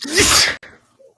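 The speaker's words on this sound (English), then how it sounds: "This man just sneezed the camera sideways." One loud, close sneeze with a sharp burst of breath, then a brief faint exhale as it fades.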